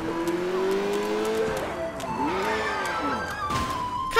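Car engine in the video game Sleeping Dogs drones and shifts in pitch as it accelerates, with a tire squeal and some faint voice underneath.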